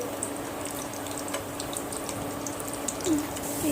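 Five chopped onions sizzling in a generous amount of hot oil in a wok, a steady close frying hiss with faint crackles throughout, rising slightly near the end.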